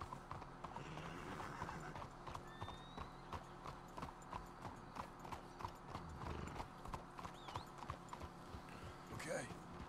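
Horses clip-clopping at a steady walking rhythm in the video game Red Dead Redemption 2, with hooves thudding continuously up close, a brief whinny near the end, and voices talking quietly in the background.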